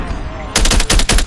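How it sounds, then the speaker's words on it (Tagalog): Gunfire in a multiplayer battle video game: a loud, close automatic burst of rapid shots in two quick strings, cutting in suddenly over quiet game background. "Anong baril yun? Malakas."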